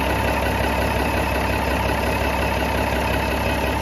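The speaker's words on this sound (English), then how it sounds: "Sounds all right, besides that belt squealing under there." A car engine idles with a continuous low rumble while a worn belt squeals faintly and steadily above it, close up and unbroken, with no talking.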